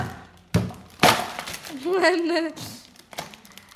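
A LOL Surprise chocolate Easter egg from Dolci Preziosi, 2020 edition, is cracked open: two sharp snapping breaks a half-second apart, then crinkling wrapper and handling sounds, with a voice briefly talking partway through.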